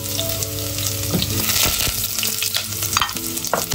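Garlic sautés in olive oil in a pan with a close, lively sizzle, broken by frequent scrapes and clinks of a utensil stirring, and no talking.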